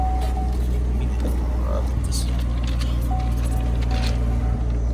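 A red Chevrolet Corvette Stingray bought cheap from a salvage auction idles with a steady, loud low rumble and a constant hum, while a voice is faintly present in the background.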